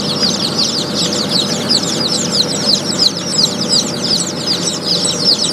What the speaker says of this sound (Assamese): বহুত পোৱালি ওলাইছে, তলতো বহুত পোৱালি পৰছে